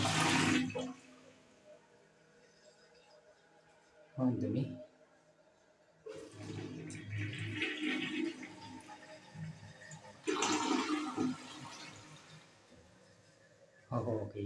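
A toilet flushes with a loud rushing gush of water, followed by a second surge as the tank refills, while a person speaks briefly nearby.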